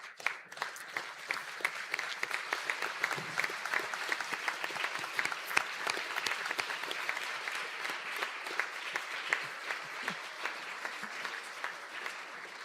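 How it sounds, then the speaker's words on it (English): Graduates at a conferring ceremony in Donegal give a long, sustained round of applause for their supporters, many hands clapping in a dense, even patter that carries on throughout without fading. "give your supporters a big round of applause as a Gurmila Maga to the supporters"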